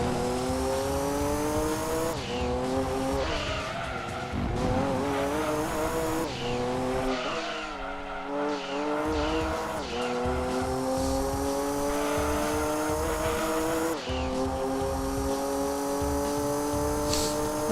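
Race cars in Gran Turismo 2 roaring around the track, a loud engine note rising and falling through gear shifts, with squealing tires and repeated drops as revs change, no voices.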